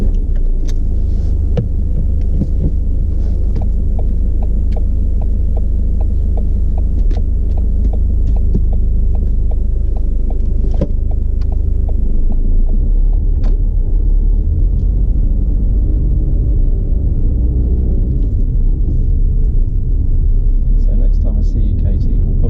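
A car drives steadily during a driving lesson, its engine a constant low hum and throb close by, with faint ticking like an indicator for a stretch and no talk.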